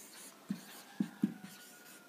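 Chalk or marker writing on a board during a classroom lesson, a few soft taps and strokes spaced out over a quiet room.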